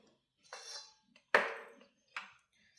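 A lid is placed over a bowl of semolina dough mixed with milk: three separate hard clinks at close range, quiet between them, with no voices.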